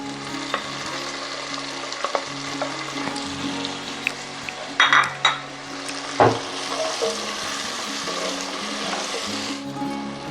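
Chopped tomatoes dropped onto fried onions in a hot pan set off a loud, steady sizzle, with a few sharp stirring clatters of a spoon against the pan.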